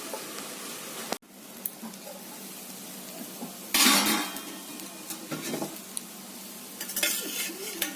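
A lid set over a pot of chana ghughni on the stove, giving a sharp clatter near the start followed by a burst of metallic scraping and clinking, with softer utensil knocks and faint sizzling afterward.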